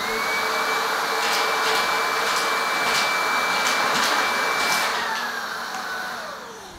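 A Shark IZ362H Power Fins cordless vacuum cleaner runs on a hard floor with a loud, steady motor whine and airflow roar that slowly drops in pitch and level near the end.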